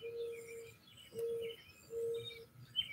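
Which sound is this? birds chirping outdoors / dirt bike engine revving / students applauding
birds chirping outdoors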